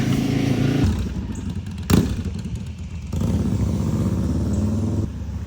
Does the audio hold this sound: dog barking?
no